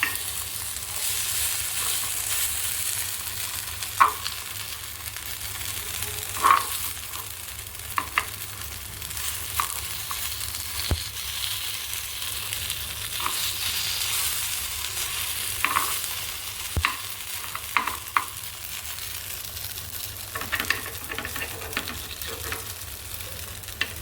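Guntaponganalu, golden-brown batter dumplings, fry steadily in a hot pan after being turned, a continuous close sizzle broken by a few scattered clicks and taps of utensils.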